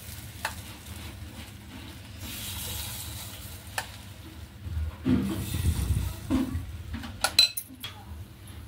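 Appe batter sizzles in an appe pan, a soft steady crackle under clinks and scrapes of a spoon against the metal, busier and louder toward the end; close, no talk.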